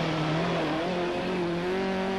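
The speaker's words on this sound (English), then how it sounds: "running a very unusual Opel Manta" An unusual Opel Manta rally car drives a forest stage of the Robin Hood Forest Rally in 1997, its engine droning steadily with shifting revs and a slight pitch dip, loud and close throughout.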